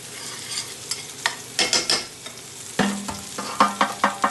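A utensil stirs flour into melted beef fat in a pan, giving soft scraping strokes and a few sharper knocks against the pan over a light sizzle.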